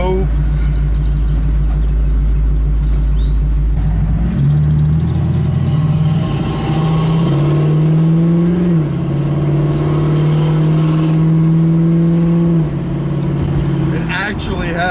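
A 1965 Ford Mustang Fastback with a K-code engine accelerates hard, close and loud, its engine note climbing and dropping through gear changes.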